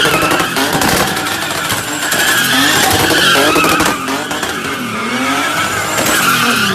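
A drift car screeches through a long continuous tire squeal and skid, loud and close, with engine roar underneath and no pause for the whole stretch.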